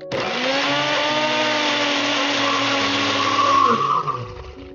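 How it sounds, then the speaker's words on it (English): A blender whirs loudly and steadily, blending a pickle and mayo sauce until smooth, its motor pitch holding constant, then rising briefly and winding down near the end. "I'm just going to blend it until it's nice and smooth"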